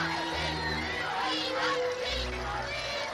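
A large crowd of around ten thousand people mills and cheers along the Mall outside the royal residence, a dense, continuous roar of many voices at steady loudness throughout.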